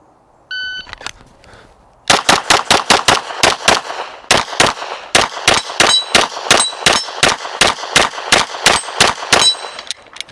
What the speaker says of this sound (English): Oh, ran out of bullets. Too many makeup shots.